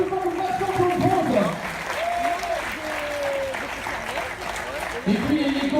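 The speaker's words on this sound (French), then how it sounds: "on peut applaudir bien fort" A crowd applauds at a K-1 kickboxing exhibition at the Spartacus in Nice, with sustained, dense clapping filling the hall while an announcer's amplified voice talks over it.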